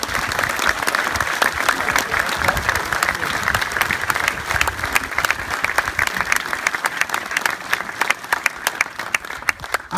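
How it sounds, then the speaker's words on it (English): A crowd at a museum exhibition event gives a long, hearty round of applause, dense and lively clapping with scattered individual claps standing out, steady for the full stretch. "I would like us to give a huge round of applause to Louisiana Museum for this incredible exhibition."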